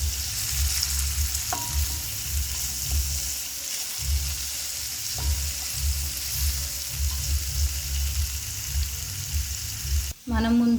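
Grated carrot stirred into a frying tempering for pulihora yellow rice, a steady sizzle with soft scraping stir strokes up close, then a sharp clatter at the end.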